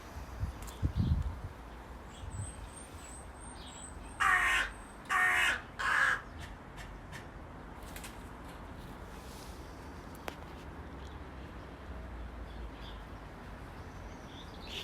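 Crows caw outdoors in a few harsh bursts, a quick early call followed by three evenly spaced loud caws, then faint scattered bird sounds over a quiet background.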